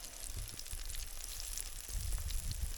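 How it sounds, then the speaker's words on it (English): Two big mackerel fillets sizzle and crackle in a hot pan, a steady close frying hiss with scattered pops and low bumps. "So we'll get them frying there now"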